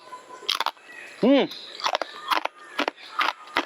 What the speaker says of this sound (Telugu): చూసారా గిలగచ్చకెళ్ళా సౌండ్ ఎలా వస్తుందో పప్పు చెక్కలు రెడీ అయిపోయినాయండి